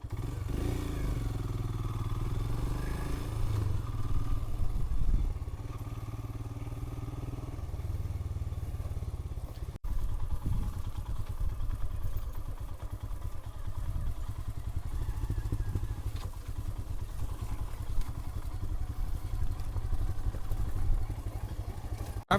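Royal Enfield Himalayan motorcycle ridden on a wilderness loop in the Blue Ridge area, with a steady engine drone and wind rumble continuing throughout, close and loud, with occasional thumps and clatter from the road.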